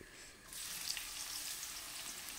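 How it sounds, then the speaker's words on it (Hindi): Two large onions drop into hot oil already holding green and black cardamom; after half a second of near quiet, a steady hissing sizzle erupts and continues evenly, soft and somewhat distant. "तेल मेरा गर्म है तो बस चंद सेकंड के बाद इसमें हम डालेंगे दो प्याज"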